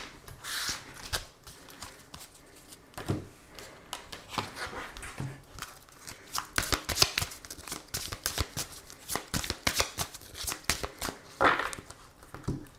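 Tarot cards being shuffled and cut by hand, giving a run of soft, irregular riffles, slaps and flicks at close range with no talk over them.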